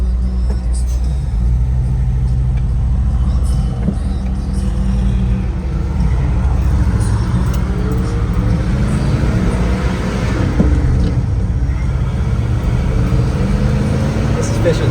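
A 1986 Ford F-150 Bullnose pickup with a four-speed gearbox driving along, a constant low engine rumble and road noise heard from inside the cab, with people talking over it throughout.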